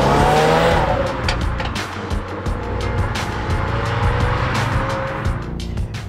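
A 2020 Subaru WRX boxer engine pulls steadily while driving on slightly damp roads, with a continuous loud engine drone, shifting revs and a brief tire squeal, heard from inside the car with no talk.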